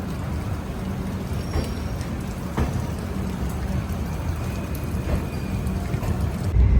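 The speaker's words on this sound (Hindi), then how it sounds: "बारिश हो रही है यहाँ पे" Steady rain patters outside a moving Bhopal Express train between Jhansi and Lucknow, a continuous wash of drops mixed with rumbling track and wind noise, with no voices.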